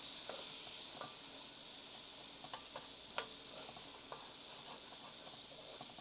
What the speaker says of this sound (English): we're just going to cook these onions till they start softening.